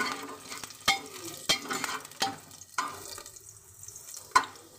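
Onions fry in a pan while being stirred, a soft continuous sizzle broken by repeated scraping strokes of a spoon against the pan, close and moderately quiet.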